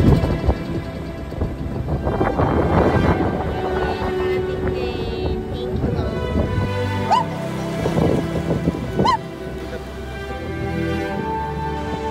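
Rushing wind and water noise as a boat moves through choppy waves near Romblon and Sibuyan in the Philippines, a constant roar with a few bumps and tonal whines.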